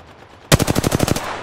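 Loud burst of automatic machine gun fire in a tactical shooter video game, about nine rapid shots in quick rhythm after a brief quiet lead-in, close and dominant.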